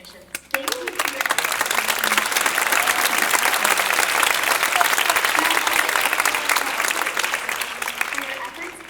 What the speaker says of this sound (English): let's give a big round of applause for our fantastic performance technicians